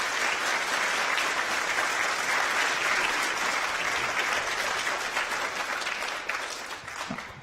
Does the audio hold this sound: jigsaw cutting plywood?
no